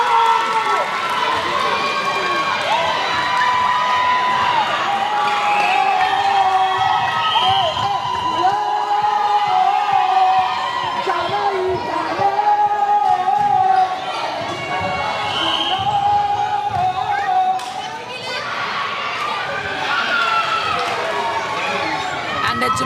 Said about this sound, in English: the crowd here is excited